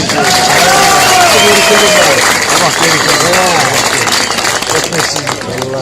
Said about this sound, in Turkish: Ona da büyük bir alkış.